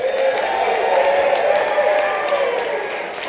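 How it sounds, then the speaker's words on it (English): An audience at a talk applauds Tom Lane, a rep, with steady, dense clapping from a sizeable crowd that holds even for several seconds and tapers only slightly. "so I'd like to give Tom a big round of applause"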